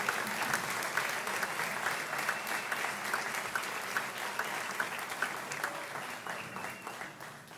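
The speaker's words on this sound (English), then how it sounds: "Let's give a big round of applause to Tanner Engel, Dr. Phillips High School." Audience applause at a varsity high school sports awards ceremony: steady, moderately distant clapping that continues for several seconds and slowly thins toward the end.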